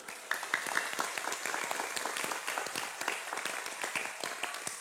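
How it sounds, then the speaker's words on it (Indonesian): An audience at an Islamic boarding school gathering bursts into dense, continuous applause, many hands clapping steadily and fairly close for several seconds. "Tepuk tangan untuk pesantren"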